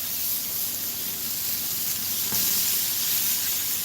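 Smothered chicken sizzling on a Blackstone griddle, a continuous bright hiss of frying with small pops, steady and close, no talk over it.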